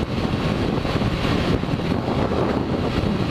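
Strong wind buffets a motorbike riding on a highway, a loud, steady broadband roar of rushing air against the microphone with no voices.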